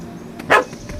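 A puppy in The Witcher 3 gives a single sharp, close bark over a faint ambient background, with a couple of softer yips before and after it.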